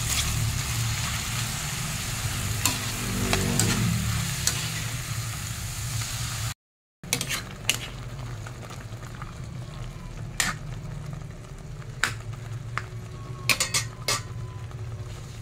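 Sponge gourd (patola) sautéing in a pan with leftover lechon kawali: a steady, close sizzle with occasional sharp clinks and scrapes of a utensil against the pan.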